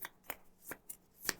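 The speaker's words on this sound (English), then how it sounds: "We're going to put them into our deck and start shuffling again." Playing cards shuffled into a deck during a tabletop board-game session, heard as a few separate crisp riffling bursts spaced apart, fairly quiet and close, with no talk over them.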